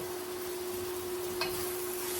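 Shrimp and noodle stir fry with vegetables gets stirred around in a pan, a soft continuous sizzle and scrape with one brief utensil clink partway through, steady and close, with a constant hum underneath and no voices.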